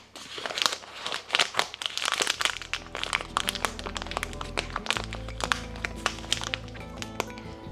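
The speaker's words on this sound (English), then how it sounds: "cut the top and put the clip now" Plastic food bag crinkling and crackling close up as its top is cut open and a clip is snapped on, dense rustles with a few sharp taps and cracks, a low hum underneath.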